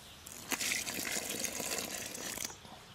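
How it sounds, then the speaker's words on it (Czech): Water pours and gushes into a bowl of dark bream groundbait being mixed for carp fishing, a steady close splashing fill lasting a few seconds with no talk. "Takže přidáme vodu."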